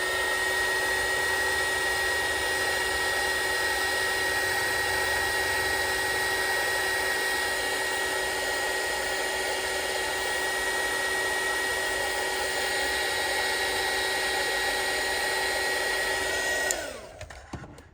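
A heat dryer blows steadily to dry ink on a vintage-style craft photo tag, a loud constant whine holding for about seventeen seconds before it switches off abruptly at the end.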